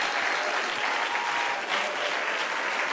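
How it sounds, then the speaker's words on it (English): A church congregation claps their hands in praise during a service, dense continuous applause from many people filling the room, with no speech over it. "Go ahead and clap your hands to the Lord now and give Him praise."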